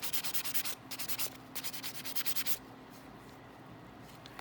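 A nail drill buzzes in short repeated bursts while buffing acrylic nails, a gritty whirring grind pulsing on and off up close.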